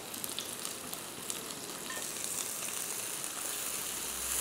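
Onions softening in hot oil in a pan that already holds browned ginger and garlic, a steady, fairly loud sizzle that holds without break, with a faint crackle near the end.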